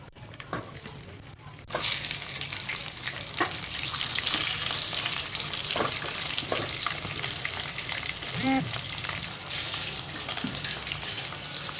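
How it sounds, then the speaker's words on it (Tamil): Potatoes frying in hot oil in a pan used just before for frying eggs, a dense steady sizzle starting abruptly and holding loud with occasional stirring scrapes. "முட்டையை வறுத்து எடுத்துட்டு அதில் உருளைக்கிழங்கு போட்டுடலாம்."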